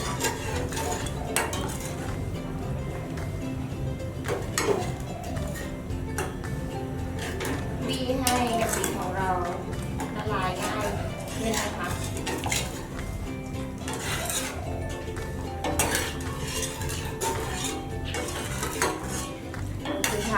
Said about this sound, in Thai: เราก็จะใส่ กะปิลงไป นะคะแล้วก็คนไปให้กะปิของเราละลายค่ะ